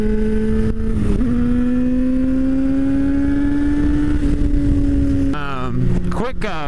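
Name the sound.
Dodge car accelerating past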